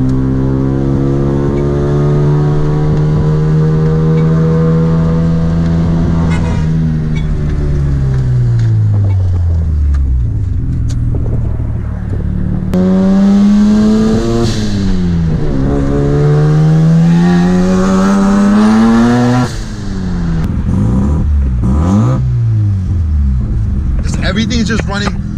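A Mazda RX-7 FD's rotary engine runs after repair work for fire and overheating problems, idling loudly up close, then rising and falling through several revs as the throttle is blipped, with a person talking over it.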